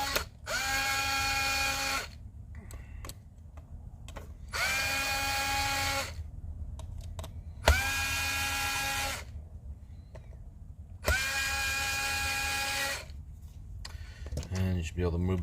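Power drill backing out screws on an iRobot Braava Jet mop robot, four loud whirring bursts with pauses between, close up, with faint handling clicks and no talking.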